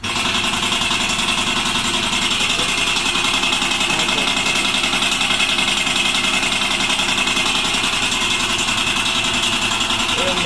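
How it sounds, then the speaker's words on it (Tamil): An electric motor runs after being switched on through a DOL starter, giving a loud, steady, rapidly pulsing mechanical hum and rattle that continues without pause throughout. "இப்போ ஸ்டார்ட் பட்டன் வந்து இப்போ ஆன் பண்ணி பார்க்கலாம்."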